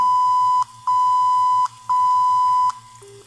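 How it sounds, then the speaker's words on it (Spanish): An electronic danger alarm from a variable-speed pump instrumentation system beeping in long, loud, steady tones, three beeps with short gaps between, followed by a lower tone, over a faint rhythmic hum. "En este momento se está generando la alarma"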